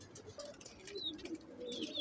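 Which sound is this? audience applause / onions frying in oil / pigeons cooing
pigeons cooing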